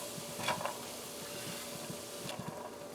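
Veggie fried rice stirred in a pan, soft scraping and light sizzling over a steady low hum, with a few brief clattering accents from the utensil.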